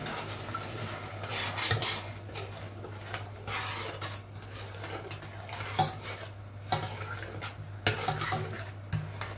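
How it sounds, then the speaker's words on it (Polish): A spoon stirs pudding mixture in a metal pot on the stove, scraping and clinking against the sides in an irregular rhythm over a steady low hum, close and alone. "Wymieszamy, żeby się nie przypaliło."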